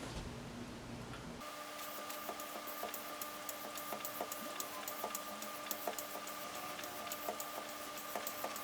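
A chisel bevel is sharpened freehand on a stone for guitar building, giving a steady run of regular back-and-forth scraping strokes at close range over a faint constant background hum.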